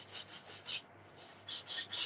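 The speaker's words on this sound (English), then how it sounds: "this is how I sand my photos" Edges of photos for a scrapbook layout being sanded, a close, dry rasping scrape in several quick back-and-forth strokes with brief pauses between them, with no talk.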